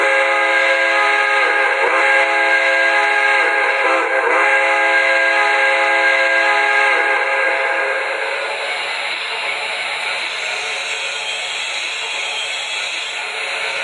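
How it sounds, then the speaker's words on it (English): Grade crossing whistle of an MTH PS3 Pennsylvania K4 Torpedo model steam locomotive: a steady, loud multi-tone whistle with a few brief pitch dips, sounding continuously before fading slightly toward the end. "Now the other whistle is the grade crossing whistle here."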